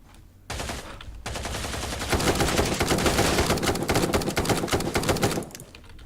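Rapid automatic gunfire from the tactical shooter video game Ground Branch rattles in a dense, loud, sustained volley lasting about five seconds, then drops off sharply.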